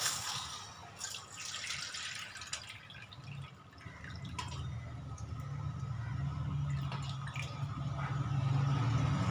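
Soaking water poured off urad dal after about five hours of soaking, heard as uneven trickling and dripping into a container over a steady low background hum in a kitchen.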